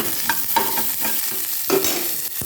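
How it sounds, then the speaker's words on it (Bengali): Mango chutney frying in hot oil with dry red chilli and black mustard seed tempering, a steady close sizzle broken by a few scraping stirs, no voices. "শুকনো লঙ্কা আর কালো সর্ষে ফোড়ন দিয়ে মায়ের আমের আচারটা বসিয়ে দিলাম"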